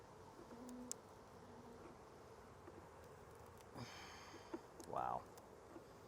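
Bees buzzing softly around a calm beehive outdoors, a faint steady hum with a few closer insects passing by, one brief louder buzz near the end.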